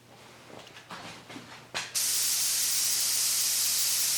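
Spray lacquer from an aerosol can coats laser-cut copper jewelry: after some quiet rustling and a short puff, a loud, steady hiss starts and runs unbroken to the end.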